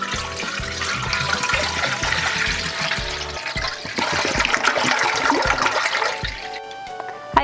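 Leftover water poured into a pan on a lit stove, a steady splashing, gurgling pour that runs continuously at close range with a brief clatter near the end.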